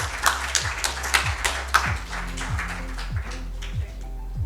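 An indoor audience at a conference session claps together in a short burst, with scattered hand claps near and far that fade toward the end.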